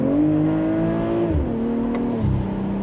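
A car's engine revving in sport mode, a strong steady drone that rises and then drops through gear-like shifts over a few seconds, loud and close, with no talk.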